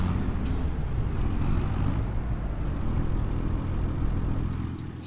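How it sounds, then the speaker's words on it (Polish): Steady low engine drone from a six-cylinder tractor in Farming Simulator 25, holding an even idle throughout at close range, with no voices. "Słychać, że to sześć, dobra."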